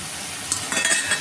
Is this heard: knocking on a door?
no